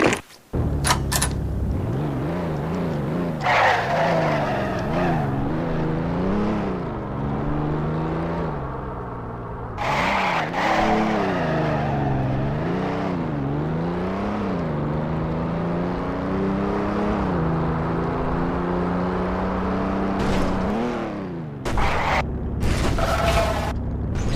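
A car in the video game Garry's Mod drives fast, its engine whining and revving up and down in repeated surges with a few sharp clicks, loud and continuous with no voices.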